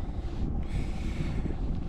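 Outdoor wind on a sunny day, blowing steadily against the microphone as a continuous low buffeting rumble with a faint airy hiss, with no voices.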